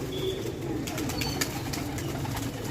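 A flock of thirteen pigeons moves about, with soft cooing and a few sharp chirps over a steady, busy background hum, nothing standing out loudly.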